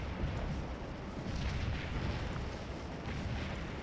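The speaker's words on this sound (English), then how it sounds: "look at all this friendly artillery that's come up on this side" Friendly artillery in a Civil War battle game pounds out a constant, dense, distant roar of cannon fire, faint and unbroken, with no distinct individual shots standing out.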